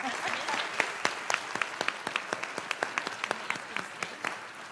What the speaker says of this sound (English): I think we can give a round of applause even if he's not here.